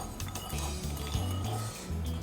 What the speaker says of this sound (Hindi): अब हमने इसको थोड़ा सा पीसना है, पीस के मिक्स करना है